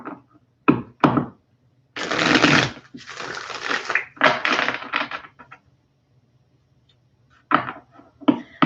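Tarot cards being shuffled and pulled, close papery riffles and sliding bursts with short taps and gaps between them.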